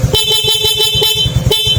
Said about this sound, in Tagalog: Ala naman po itong malakas na busina.